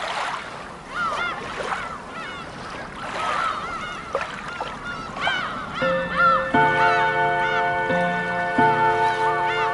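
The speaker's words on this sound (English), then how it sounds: "let's listen to those seagulls" Seagulls call repeatedly with harsh, honking cries over a noisy outdoor background, later joined by steady sustained musical tones.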